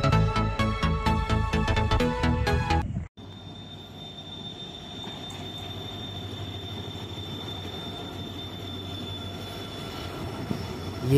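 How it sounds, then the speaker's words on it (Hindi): A Howrah to Radhikapur passenger train at a station in Raiganj, with a loud rhythmic clatter of wheels over rail joints that cuts off abruptly, followed by a steady squealing wheel tone and a low rumble as it settles. "ये हावड़ा टू राधिकापुर का ट्रेन आ चुका है"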